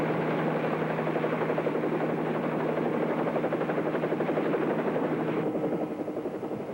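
A helicopter flies close and loud in a steady rotor drone with a rapid whop-whop beat, on a hill ridge. The tone shifts slightly near the end as it changes pitch, and no one speaks.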